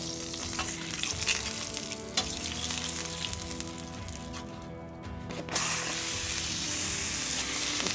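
Mexican ribeye steak hitting a hot Wildfire griddle, a loud continuous sizzle with scraping and clicks that briefly dips before surging back, close up with no talk.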